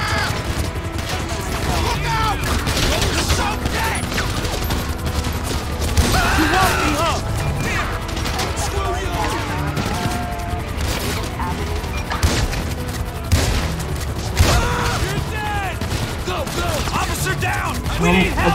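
Gunfire during GTA V gameplay, dense bursts of shots and impacts across the whole stretch, loud and busy, mixed with game noise.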